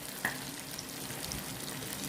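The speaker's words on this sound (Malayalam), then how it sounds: "chicken fry ചെയ്തുകൊണ്ടിരിക്കുന്നതിനിടയിലായതുകൊണ്ട്" Chicken frying in a pan, a steady soft sizzle with faint clinks of stirring, quiet and close with no talking.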